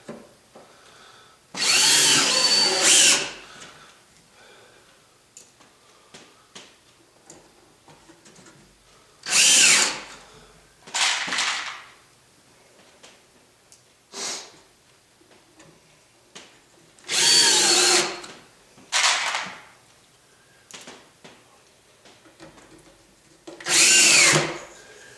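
A power drill drives half-inch sheet metal screws into a wooden workbench, with four or five loud, close bursts of whirring and grinding that each last a second or two, separated by quiet pauses and light handling clatter.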